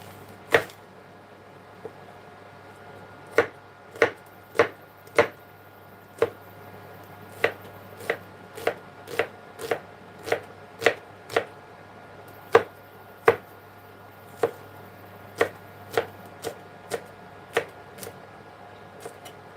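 A knife chops spring onion on a cutting board, about two dozen sharp, close thuds at a steady, unhurried pace with a couple of brief pauses, over a faint background hum.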